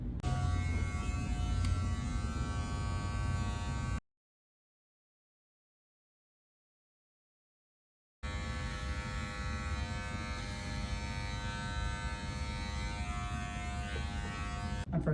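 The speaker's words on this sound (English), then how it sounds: "I'm going to switch to the 1 and use a mirror to try to blend" Electric hair clippers buzz steadily close by while shaving a head, a constant high-pitched motor whine broken by a few seconds of total silence before resuming.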